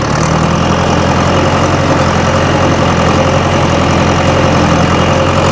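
A tractor pulling a hay baler along a windrow gives a loud, steady engine drone with a constant low hum and mechanical rattle, running unbroken and close throughout.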